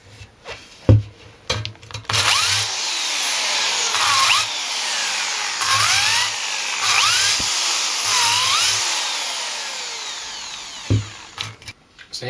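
A power drill with an 80-grit brush attachment finishes the drilled holes in a fat bike rim on a built wheel: a loud, steady whirring grind in repeated bursts of a second or two, close up, with no talk.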